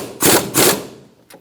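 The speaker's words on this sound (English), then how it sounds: "We're going to snug up this bolt for our fork on our strut." Two quick metallic ratcheting bursts as a bolt on the front strut fork of a 2005-2010 Chrysler 300 is snugged up, close and loud, followed by a faint softer click.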